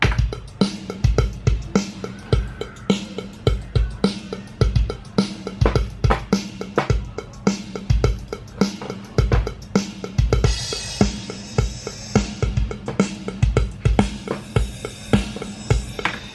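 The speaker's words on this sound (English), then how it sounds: "well actually the drum arrangement, and that by itself sounds like this." Programmed drum arrangement from EZdrummer software, alone without other instruments: steady punchy kick and snare backbeat with busy cymbals, brighter crash-heavy wash in the later part, loud and continuous throughout.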